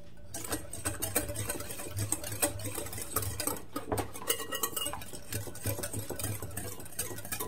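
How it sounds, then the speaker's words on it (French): Corn dog batter being stirred in a bowl after yeast is added, heard as a continuous close whisking and scraping with a fast rhythmic patter and no voices. "Ensuite, je verse ma levure. Je mélange à nouveau."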